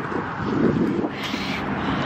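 Cold wind blows steadily across an outdoor pumpkin patch market, a continuous broad rushing roar with microphone buffeting and no clear voices.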